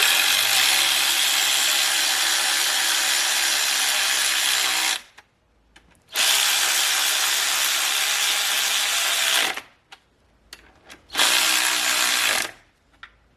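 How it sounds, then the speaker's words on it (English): Ratchet running LS engine connecting rod bolts during a bottom-end rebuild, loud rapid clicking in three long bursts separated by short quiet pauses, close up with no talking. "So I just use the ratchet, and then the bolt will drop a little."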